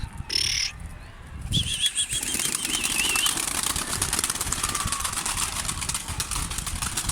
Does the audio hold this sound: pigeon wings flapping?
yes